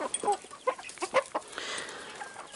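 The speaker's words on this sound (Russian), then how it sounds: "Это квочка среднего выводка второго." A brooding hen with a second brood clucks in short, soft bursts at close range, with faint chicken calls and yard noise around her.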